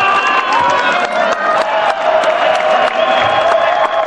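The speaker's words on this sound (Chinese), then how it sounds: "场边观众挥舞国旗兴奋的尖叫拍手" Spectators at an Asian Cup tug-of-war match, waving national flags, scream and clap in a loud, dense roar of cheering and applause that keeps going without a break for four seconds.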